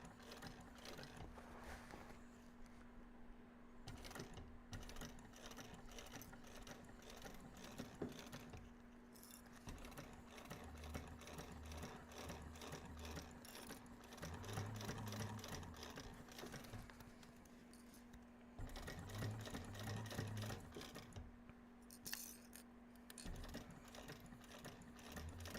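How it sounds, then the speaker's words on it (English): A sewing machine stitches a bag seam in quick, rapid whirring runs with short pauses between them, and a steady faint hum runs throughout. The sound is close and fairly quiet, with no talk. "I am going to grab my stiletto to try and keep that seam right where it needs to be as I'm sewing it."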